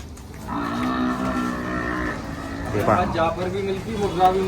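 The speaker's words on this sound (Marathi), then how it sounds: "पूर्ण शेडमध्ये म्हशी बांधलेल्या आहेत" Several water buffaloes low and moo in a shed at a buffalo market, long deep calls overlapping, followed by shorter grunting moos close by.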